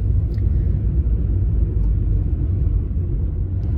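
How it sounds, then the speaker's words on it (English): Car cruising along the Blackpool promenade from Bispham toward the tower in November, heard from inside as a steady, loud low road rumble without speech. "Just driving along the promenade now,"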